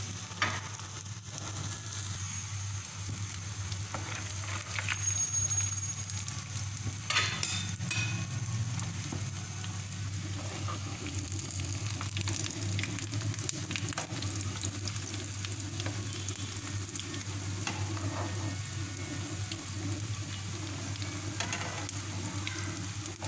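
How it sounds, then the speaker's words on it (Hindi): Bread slices for shahi tukray deep frying in hot oil, a steady dense crackling sizzle that runs close and continuous throughout with no one talking. "लेकिन मैं डीप फ्राई करूँगी। अब इसको मैं फ्राई कर लूँगी।"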